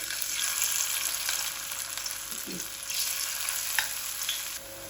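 Pakora batter, made with gram flour, frying in oil over medium heat, giving a steady bright sizzle and crackle with a brief stirring clink midway, close and constant.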